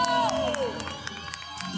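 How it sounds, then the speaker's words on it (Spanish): Brief burst of audience cheering and applause at an extreme-sports awards ceremony, a rising whoop over scattered clapping and crowd noise, fading quickly and moderately quiet. "Demos un fuerte aplauso a Daniel Gómez de la Vega"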